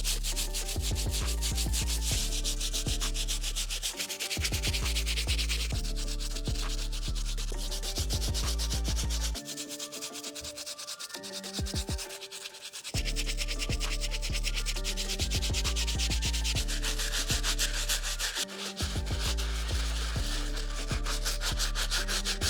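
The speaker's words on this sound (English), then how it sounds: "I'm gonna use this brush on the midsoles and the outsoles." Stiff bristle brush scrubbing the midsoles and outsoles of Air Jordan 1 Mocha Low shoes, rapid rhythmic rasping strokes continuing throughout with a few brief pauses, close and loud.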